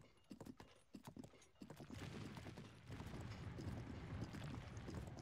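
Horse hooves clip-clopping in Zelda Breath of the Wild, a few sparse, distinct clops at first, then a denser, continuous run of hoofbeats with rumbling movement underneath.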